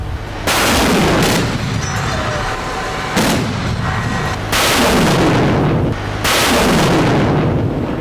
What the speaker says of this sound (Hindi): बारूद उगलता हवा में टारगेट को खत्म करता यह रूस का Panjshir air defence missile system है।